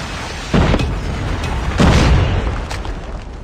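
Predator missile strike in the COD Mobile shooter game, loud booming explosions with rumbling bursts, a heavy impact near the start and a second big blast partway through, over continuous game noise.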